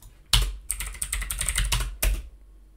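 Quick bursts of keystrokes on a computer keyboard as a short command is typed, a sharp first press, a rapid run of clicks, then a final firm tap like an Enter key, close and clear with no speech.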